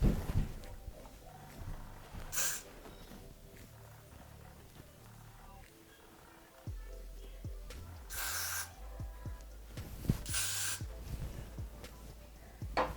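Three short bursts of hissing hairspray sprayed onto hair, close by, with quiet rustling and faint handling noises between them.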